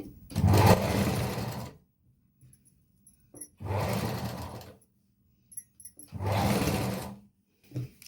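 Sewing machine stitching small frills onto a layer of a kids' lehenga, running in three long loud bursts of about a second and a half each, separated by quiet pauses with faint handling noises.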